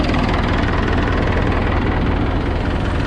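A Mahindra Arjuna Novo 605 DI harvester engine running close by, a loud, steady low diesel drone with constant rumble and vibration and no break, with no talk over it.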